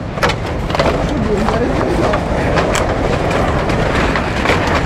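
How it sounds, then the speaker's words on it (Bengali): A motor vehicle rumbles steadily and fairly loudly near a dried-up riverbed crossed by a bamboo footbridge, with broad road noise holding level throughout and no clear single pass. "গাড়ি আসছে।"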